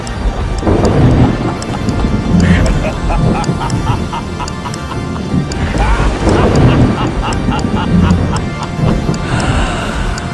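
A heavy thunderstorm with steady loud rain and repeated rumbling thunder, the rolls swelling and fading throughout, close and continuous.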